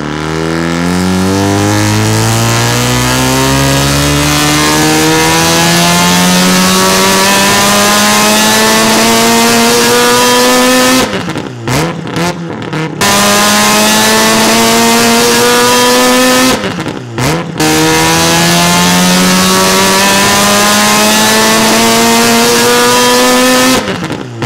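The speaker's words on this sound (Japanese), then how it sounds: "結構ね3ロータリーっぽい音が出るんで" A loud, high-revving three-rotor rotary engine climbs steadily through the gears with a smooth buzzing wail during a dyno power check, with two brief drops as it shifts, close by.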